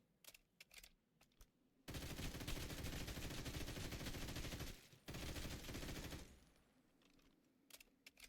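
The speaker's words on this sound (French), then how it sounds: "essaye de hit avec ton arme" Rapid automatic gunfire from weapons in a horror video game rattles in two long sustained bursts, loud and dense, with a brief gap between them and sparse clicks before and after.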